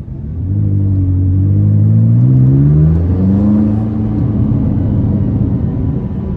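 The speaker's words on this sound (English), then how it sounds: "this exhaust really does this car justice" A loud, deep exhaust on a tuned 664 hp McLaren 570S revs and pulls hard, its tone climbing steadily under acceleration, then holds a sustained roaring drone.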